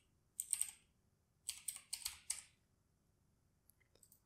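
Typing on a computer keyboard, heard as two short, quiet bursts of rapid clicking keystrokes separated by a brief pause, close to the microphone in an otherwise silent room.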